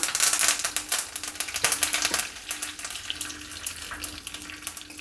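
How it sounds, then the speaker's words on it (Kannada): Mustard seeds spluttering in hot oil for a tempering, a dense crackling of rapid pops and sputters that is loud at first and then eases off slightly, with no talking. "ಸಾಸಿವೆ ಸಿಡಿತಾ ಇದೆ"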